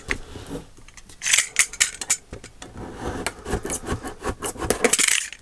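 Scissors snip and slice through packing tape on a cardboard box in a run of quick, close crisp cuts and rasping rubs, with no speech.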